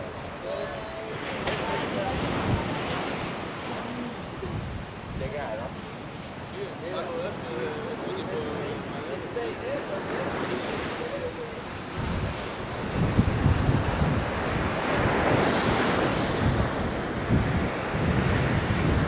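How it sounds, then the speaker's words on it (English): Ocean surf rolls onto a soft-sand beach at Costa Teguise in a steady broad roar, with gusts of wind buffeting the microphone and the waves swelling louder toward the end. "Yeah, there's some pretty decent waves."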